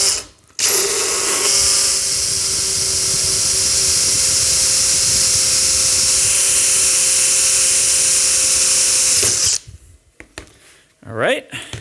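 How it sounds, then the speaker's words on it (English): A power drill whines steadily at high speed for several seconds, loud and close, then spins down and stops. "So we'll go ahead and drill this hole in."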